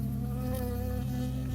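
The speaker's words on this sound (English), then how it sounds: "I got stung by a bee." Insect buzzing in the video game Firewatch, a bee droning steadily and close with a low, continuous hum throughout, no talk.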